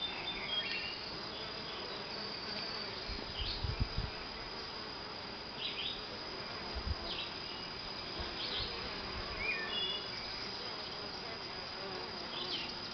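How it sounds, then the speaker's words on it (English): Honey bees working around a hive, a continuous low buzzing hum of many insects, fairly faint and steady, with a few brief nearby passes and soft low thumps. "just let you watch the bees work"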